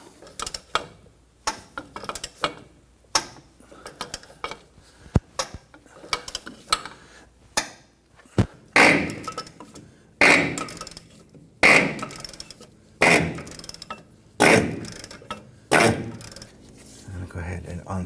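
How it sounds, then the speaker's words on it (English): A ratchet with an extension turns on the inner tie rod of a 2017-2020 Hyundai Elantra, making rapid clicking in repeated bursts that grow louder and more regular toward the end. "we'll go ahead and install our extension with our ratchet"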